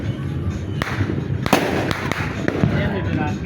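Small rocket fireworks launching and popping at a New Year celebration, several sharp bangs and thumps at about one-second intervals over a busy background of crowd noise and distant fireworks, with people chattering nearby.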